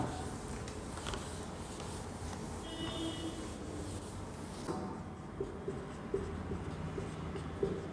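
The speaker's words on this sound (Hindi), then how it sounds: "अगला क्वेश्चन अपन लिखते हैं छठा" Chalk or marker scratching out a question on a classroom board during a Hindi-medium Class 10 social science lesson, a steady close scraping that runs for several seconds with a few sharper taps near the end.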